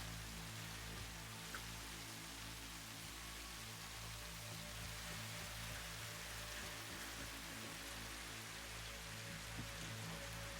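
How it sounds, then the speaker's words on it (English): Constant soft rain in the game Satisfactory, a quiet, even hiss of falling water over a low, steady hum, with no voices. "It's always jolting to me how quickly that rain noise goes away"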